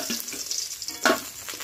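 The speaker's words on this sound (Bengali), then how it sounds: "মাছগুলো এরকম লাল লাল করে ভেজে নিয়েছি, এখন নামিয়ে নিচ্ছি।" Small fish fried red in oil crackle and sizzle close by in a pan, with a brief louder scrape or splash partway through as they are lifted out; no speech.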